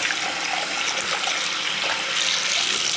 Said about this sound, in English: And that's it, a perfectly draining sink.